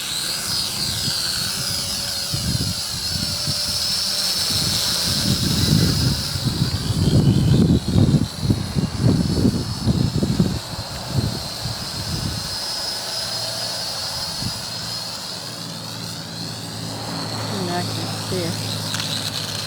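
A Syma X56W drone hovers and flies in a church parking lot, giving off a steady whirring buzz with a high whine that swells louder midway and then settles, while a person talks over it.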